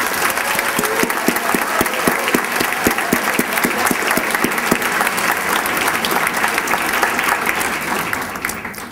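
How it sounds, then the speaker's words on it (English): At an evening Educator of the Year awards ceremony, a large audience applauds the award recipients with sustained, even clapping that stays loud throughout and fades slightly at the very end. "Let's applaud our recipients who are the winners tonight."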